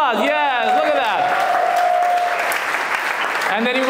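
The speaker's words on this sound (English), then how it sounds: "round of applause" A comedy club crowd at an English stand-up show in Malta claps over cheering and voices, a sustained dense applause that swells and holds, with people talking and shouting on top.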